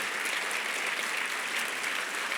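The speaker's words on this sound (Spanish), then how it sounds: "Dale un aplauso al Señor." A church seminar audience applauding steadily, a dense wash of many hands clapping at even loudness throughout, with no voices on top.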